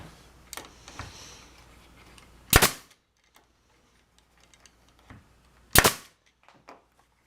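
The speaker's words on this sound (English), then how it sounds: "I like to shoot a couple brads just to keep it from moving while the glue dries" A brad nailer fires brads into wood, pinning a glued edge-rounding block made from scrap: two sharp, loud pops a few seconds apart, with faint clicks and light shop handling noises between them.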